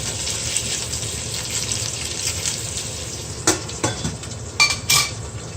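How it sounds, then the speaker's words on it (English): Pork ribs and sinigang ingredients sauté in a pan, giving a steady close sizzle with a few clatters of a utensil stirring near the end. "After browning my pork ribs, I will saute a bit all my ingredients in here"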